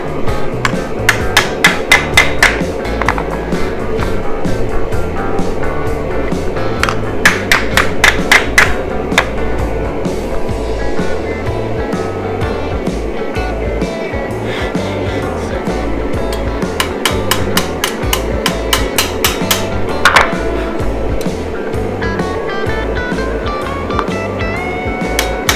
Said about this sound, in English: I just finished forging the blade